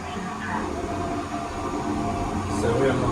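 Steady interior rumble and rolling hum of a new passenger train running from the Blue Mountains toward the city, continuous and moderately loud with no distinct events.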